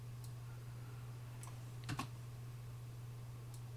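A few light keystrokes on a computer keyboard as a password is entered, faint and sparse over a steady low electrical hum, with a small cluster of clicks near the middle.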